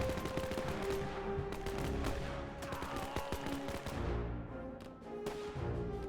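Sustained gunfire from a World War II battle in the game Men of War II, dense rapid bursts of rifle and machine-gun shots rattling continuously, close and loud, with a brief lull near the end before firing resumes.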